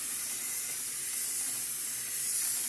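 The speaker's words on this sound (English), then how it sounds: "I'm going to add about 2 litres of boiling water, just to help it on its way" Boiling water is poured into a batch of home-brew shiraz red wine, giving a steady, close hiss and rush that holds for a few seconds with no talk.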